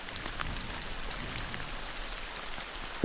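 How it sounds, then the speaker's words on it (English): Heavy rain pours steadily on the Costa Rican cloud forest of the Talamanca Range, a loud, dense hiss of drops on surfaces, with one brief knock near the end and no voices. "it's really hard to tell with all this rain because it's so loud"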